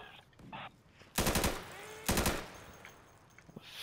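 Two loud, close bursts of rapid automatic gunfire in the video game Insurgency, each lasting about a third of a second, separated by a short pause, with quieter game noises around them.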